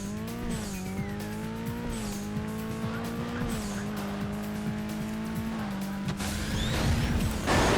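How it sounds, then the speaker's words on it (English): Car engine whines steadily in Burnout 2 on PlayStation 2, pitch rising and falling as the racer shifts, with repeated tire squeals and skids throughout and a louder crash burst near the end. "All about figuring out where the optimal place to smash your car into is"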